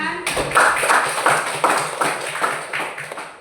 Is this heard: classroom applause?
yes